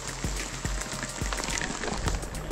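Steady rain patters and hisses outdoors beside a river, with scattered drops tapping nearby and faint low rumbling, no talking.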